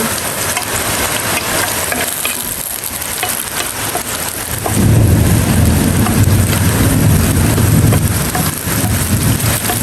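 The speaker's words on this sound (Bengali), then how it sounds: "এখন রসুনটা বাদামি করে বেরেস্তা করে নিব" Chopped garlic fries in oil until browned, a loud, dense sizzle that thickens and grows louder partway through, like heavy rain on a surface, heard close with no voices.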